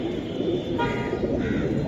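Silver Giribaz pigeons murmur in low, continuous coos close by, with a couple of brief brighter calls rising over the steady flock sound.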